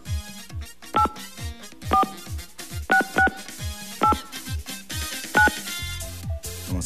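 A cellphone number being dialed on a game show: about six short keypad tones, a few seconds apart, cut through busy background music and studio noise.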